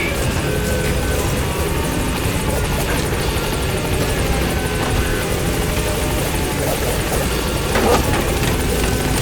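A helicopter in Metal Gear Solid V: The Phantom Pain arrives at a landing zone: a steady, loud rotor drone and engine whine holds throughout, with no talk over it.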